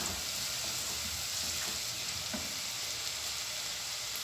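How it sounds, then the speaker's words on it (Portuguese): Pasta sauce sizzles and fries in a hot pan, a steady bright hiss that holds evenly throughout without any voices. "agora eu vou colocar o molho aqui"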